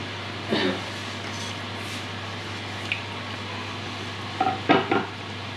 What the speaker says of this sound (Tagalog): Prito na ang spring rolls.